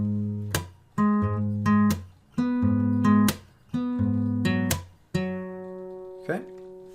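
Acoustic guitar playing a short fingerstyle passage: bright plucked notes and chords in spaced phrases with percussive slaps, clear and close, without talking.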